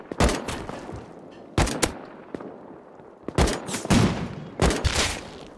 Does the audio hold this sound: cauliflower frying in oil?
no